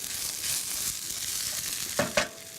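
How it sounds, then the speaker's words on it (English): Ingredients being stirred into a hot frying pan: steady soft sizzling with a few brief scraping clinks of the utensil near the end, close up with no voices. "So we'll just stir that in there."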